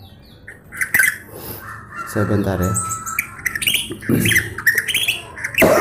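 A sick white-rumped shama (murai) with a hoarse voice, breathing troubles and coughing gives harsh, raspy squawks and broken calls close by, in uneven bursts, while someone speaks briefly.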